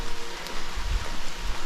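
Steady rain falling in a forest during a hike in Susquehannock State Forest, Pennsylvania, a dense continuous hiss of drops on leaves and ground, close and fairly loud with no voices.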